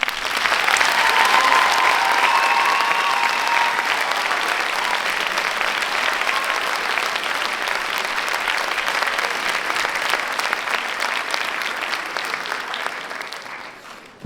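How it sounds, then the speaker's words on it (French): A theatre audience at a high-school eloquence contest final gives the teachers a long, steady round of applause, dense clapping from a large crowd that holds for over ten seconds before fading. "Je voudrais, si possible, que nous applaudissions collectivement les professeurs de ces élèves."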